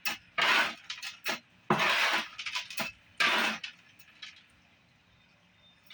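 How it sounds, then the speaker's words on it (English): Pie scraper mixing coarse sand and worm castings into potting soil, in several loose gritty scraping and rasping strokes, close and moderately loud, separated by brief pauses. "I'm going to use my handy dandy pie scraper, mix it all up"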